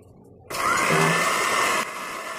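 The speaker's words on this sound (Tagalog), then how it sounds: "So ito nilagay ko na sa blender." A blender kicks on abruptly, whirring loudly as it grinds dried stevia leaves into powder, holding a steady high-pitched roar for over a second before dropping to a lower, quieter spin.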